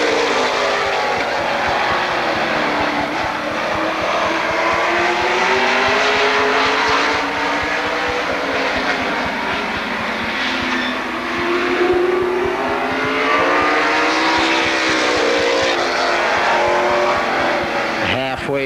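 NASCAR weekly series stock cars racing at Lorain County Speedway, a loud sustained engine roar with rising and falling pitch as the cars pass down the backstretch, under continuous commentary.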